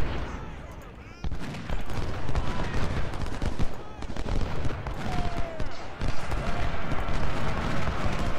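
Infantry gunfire rolls through a Civil War battle in the strategy game Ultimate General: Civil War: dense crackling volleys and scattered rifle shots pop continuously near and far, with a voice talking at times.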